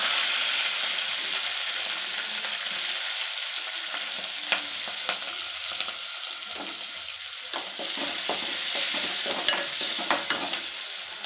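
Green chillies frying in a pan produce a continuous close sizzle, with scattered sharp clicks and scrapes from stirring that grow busier in the second half.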